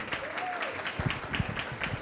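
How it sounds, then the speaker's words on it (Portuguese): Audience applause at a Pink October and Blue November health event welcoming cancer-foundation volunteers, a short burst of dense clapping from a crowd with a faint voice passing through. "Vamos aplaudi-los?"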